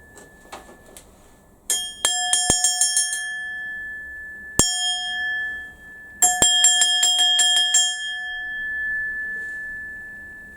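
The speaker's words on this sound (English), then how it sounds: "As bells goes, that's not too bad. It's a nice long crystal" A handmade bell is struck repeatedly in short bursts, giving bright, ringing, crystal-clear metallic tones that sustain and slowly decay between strikes, loud and close with no talking.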